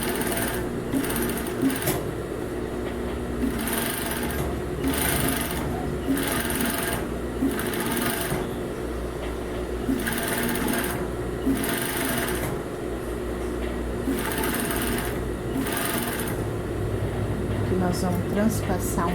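A sewing machine stitches the finishing seam on a plus-size one-piece swimsuit with no cups, its steady motor whir running in repeated bursts of stitching, close and loud, while someone talks over it.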